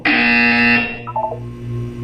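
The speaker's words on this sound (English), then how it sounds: "When you hear the buzzer, look up at the ceiling." A loud, sustained alarm buzzer from the Portal 2 video game blares for about three-quarters of a second, then trails off into a few short fading tones over a low hum.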